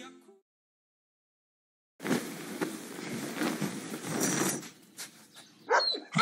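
A dog barks and growls outdoors, starting abruptly after a short silence and going on fairly loudly amid rough background noise.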